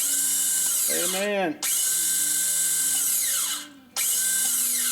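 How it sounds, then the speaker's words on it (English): An ATV starter motor cranks in two bursts, whining and cutting out briefly between them, loud and close with a voice speaking over the start. "We hit the old starter button and see what happens."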